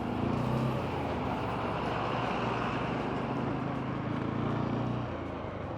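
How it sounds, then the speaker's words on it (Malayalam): A vehicle drives steadily along a road near an army convoy while overtaking other vehicles, giving a continuous loud engine and road rumble with wind noise throughout and no break. "ഞാനിപ്പോൾ ഒരു 3-4 വണ്ടീനെ ഓവർടേക്ക് ചെയ്തു."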